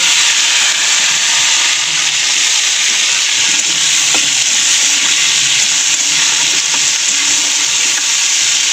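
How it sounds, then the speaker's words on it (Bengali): Nigella seeds and tomatoes frying in hot oil in a pan, a loud, close, steady hiss and sizzle with a few faint stirring knocks underneath, no talking. "তেলের মধ্যে দিয়ে দেবো কালো জিরে ফোড়ন, দিয়ে দেবো কটা টমেটো"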